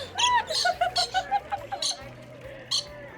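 Loud birds in an enclosure at the Long Beach Aquarium, giving a run of sharp, repeated calls and chirps close by, with a few bursts standing out near the end.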